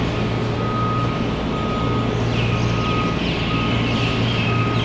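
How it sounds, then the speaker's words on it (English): A garbage truck in Waikiki in the early morning backs up with its reversing alarm beeping in a steady, evenly spaced series over a constant engine and street rumble, with birds chirping faintly above. "Garbage trucks."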